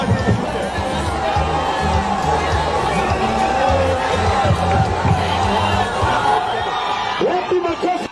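A crowd at a university event in Tharaka Nithi greets the arriving president with a loud, continuous roar of clapping, cheering and chatter, close and busy throughout, with a few shouts rising out of the noise.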